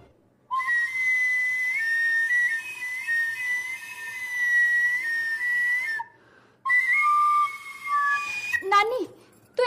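A flute plays sustained, bright high notes with slight bends, pausing once, then resuming before a brief flourish at the end; close and clear, alone.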